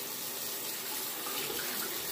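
Tap water runs steadily into a sink as a razor is rinsed during a shave, a close, even splashing stream with no pauses.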